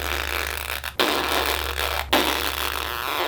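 A voice imitates a long, loud fart with a sustained, raspy, buzzing blast that runs for several seconds, broken by two very brief gaps, close and fairly loud with no talk.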